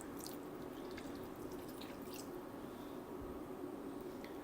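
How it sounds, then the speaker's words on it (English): Water being poured into a Moroccan tagine, with faint drips and wet squishing over a steady low background hum, quiet and close, no talking. "Then we'll add a bit of water again,"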